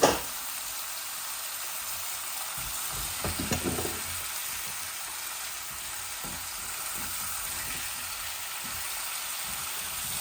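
Dried gajar fish with diced radish and potato sizzles in oil, a continuous crackling fry broken by a brief burst of stirring and scraping midway, with no voices.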